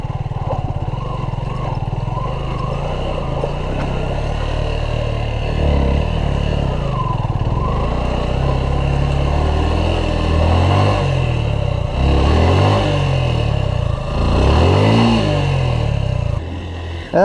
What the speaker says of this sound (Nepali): अब यो क्रस गर्नुपर्छ बाइक फस्दैन थाहा छैन